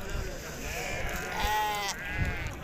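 Sheep bleating at a livestock market, several wavering cries in close succession amid crowd murmur and background voices.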